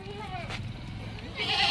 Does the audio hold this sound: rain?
no